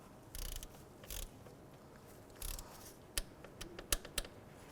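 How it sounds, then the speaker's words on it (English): Ratchet wrench clicking as a 12mm bolt is torqued on an alternator of a 2011-2016 Hyundai Elantra, with short bursts of ratcheting followed by several sharp, isolated clicks, close and fairly quiet. "And this one needs to be torqued down to 10 foot-pounds,"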